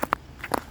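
Footsteps in spiked shoes crunching on icy ground, two to three sharp crackling steps close up and fairly quiet, with nothing else heard.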